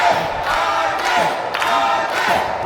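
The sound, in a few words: wrestling crowd cheering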